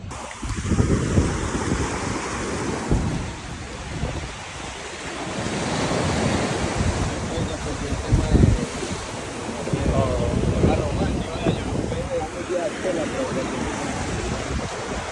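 Ocean surf rolls in at Bondi Beach in Sydney in steady, swelling washes, loud and close, with gusts of wind buffeting the microphone and people talking nearby.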